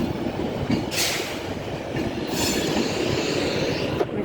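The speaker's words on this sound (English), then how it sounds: "It's coming from London Euston, and it is class 390." A class 390 train of 11 coaches passes through Manchester Piccadilly station with a steady rumble and rattle of wheels, with brief squeals at moments and no voices.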